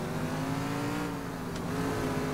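Car engine in a video game resembling GTA 4, a steady, droning hum with harmonic tones held at constant loudness throughout, close and continuous, with no talking.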